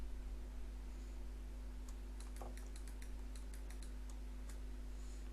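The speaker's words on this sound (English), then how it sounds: "so I'm typing the password here" Password being typed on a computer keyboard: a quick run of light, crisp key taps in an irregular burst, faint and close, over a low steady electrical hum.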